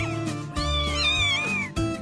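A small fluffy kitten meows in a drawn-out, wavering cry, close and clear, with a short break before another mew starts under steady background music.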